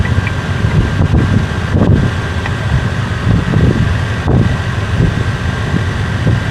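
A Chevrolet K5 Blazer engine idles smoothly after repairs, a steady low rumble heard up close with some wind buffeting the microphone.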